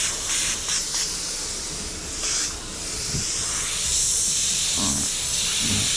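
An airbrush spraying fluorescent paint for a graffiti-style design gives a steady close hiss that swells and eases, with faint soft taps and rustles beneath.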